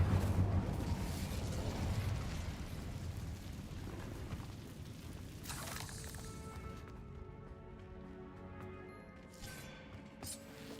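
A fiery Incendio spell is cast in the Hogwarts Legacy video game, giving a loud rushing burst with a roaring, crackling rumble that fades into quieter game tones and chimes.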